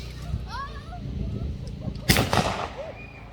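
A homemade rifle fires a single sharp, loud shot at Wrest Park, an English Heritage site in the UK. The shot is heard up close and comes after a short stretch of background voices and chatter, then dies away quickly.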